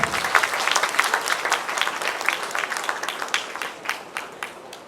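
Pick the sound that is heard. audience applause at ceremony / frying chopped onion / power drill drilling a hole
audience applause at ceremony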